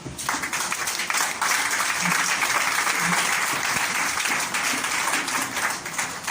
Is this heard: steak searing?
no